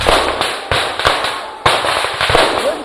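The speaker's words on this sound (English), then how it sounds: "Gunshots are fired" A rapid series of sharp gunshot cracks rings out during a jungle raid training exercise, with repeated loud reports over a continuous noisy background.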